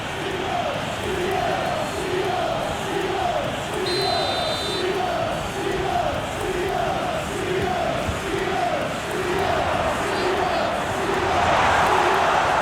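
A football video game crowd sings a rhythmic chant in a simulated Brighton vs Arsenal Premier League match. The repeated pulses sound steady and mid-distance, with a brief whistle-like tone and a swell of noise at the end.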